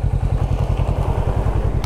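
Kawasaki Vulcan S cruiser motorcycle on a ride, engine giving a steady low rhythmic pulsing thrum, loud and close, alone without speech.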